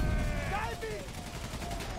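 Machine-gun fire from the World War I video game Valiant Hearts rattles in dense bursts beneath a steady backdrop of game sound, with a voice talking over it.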